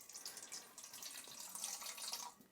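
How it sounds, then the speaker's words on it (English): About 12 fluid ounces of water pours steadily into a bowl for emergency grid-down bread, a continuous close splashing trickle with no speech. "put some water in our bowl"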